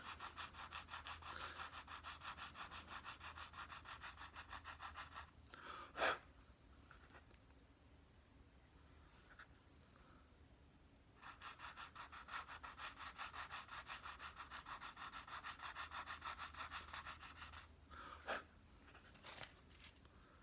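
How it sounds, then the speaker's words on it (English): Fine sandpaper rubs back and forth on wood in quick, even strokes, pausing for a few seconds midway before resuming, quiet and close. "it is only a fine sanding it needs."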